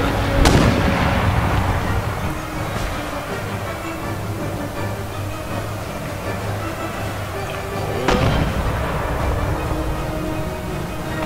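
Artillery cannons fire shells in an Empire: Total War battle, two sharp booming shots several seconds apart over a continuous rumbling battlefield din.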